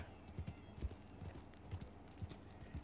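Wild horse hooves in the video game Red Dead Online, a quick irregular clip-clop of several hoofbeats thudding on the ground at moderate distance over a quiet ambient background.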